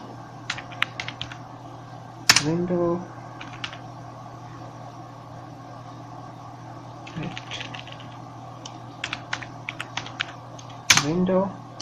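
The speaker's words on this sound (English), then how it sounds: "Let's just type window" Code is typed on a computer keyboard in bursts of quick, close key clicks, with two louder clacks that are probably the spacebar or enter key. A steady low hum sits underneath.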